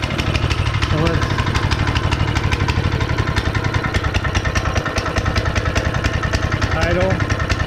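A Honda GX160 5.5HP small engine, not run in years, idles with a steady rapid mechanical chugging throb, loud and close, while a voice briefly speaks over it.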